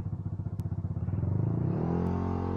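A motorcycle with a newly installed MM888 clutch and bell runs at low speed. The engine thumps rapidly and evenly, then the tone smooths and the pitch rises slightly as it pulls away. It is close and loud, with no talking.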